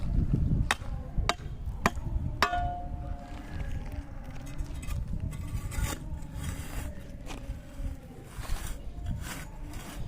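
A manual earth auger bites into the ground with a series of sharp, irregular chopping and scraping thuds, close and fairly loud over a low rumbling background.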